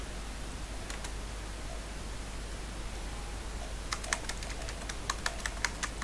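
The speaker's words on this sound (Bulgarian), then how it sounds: "Извинявам се за клавиатурата." Typing on a noisy computer keyboard during a GTA: San Andreas session, a few faint clicks early, then a quicker run of sharp keystrokes over steady background hiss.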